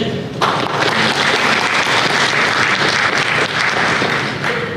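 An audience at the Hana Bank Economic Outlook 2023 seminar gives sustained applause, loud dense clapping that starts abruptly and holds steady before tapering slightly.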